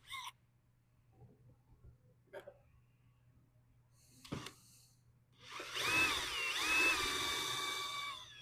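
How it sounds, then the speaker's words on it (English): A power drill bores through the metal frame of a Polaris Ranger, a loud grinding whine that starts after a few scattered knocks and handling clicks and then runs steadily for several seconds. "I'm gonna go ahead and drill now right through the frame."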